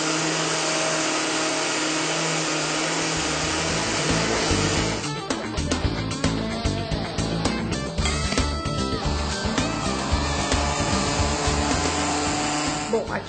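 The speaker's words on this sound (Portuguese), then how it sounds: "nós vamos ligar o liquidificador e vamos triturando para ele ir misturando aos poucos" An electric blender grinds instant coffee, sugar and powdered milk for cappuccino, starting with a steady loud whir and turning into a rougher, choppy grinding as the powder mixes, with a voice talking over it.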